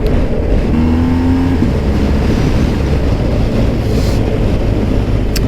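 A motorcycle accelerates along an open national speed limit road, its engine rumble rising briefly beneath constant loud wind buffeting.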